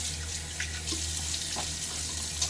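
Tap water running into a sink before a shave, a soft steady splashing stream with faint low hum beneath, moderately quiet and without speech.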